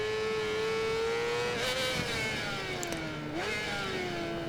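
Yamaha R6 motorcycle at racing speed in Ride 4, its high-revving engine holding a steady, loud whine that dips and climbs with gear changes, close and continuous throughout.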